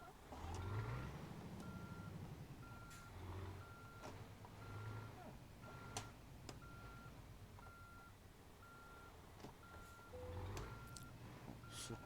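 A car reverses slowly into a parking spot while regular reversing beeps pulse evenly over a low engine rumble, with faint clicks and road noise in the background.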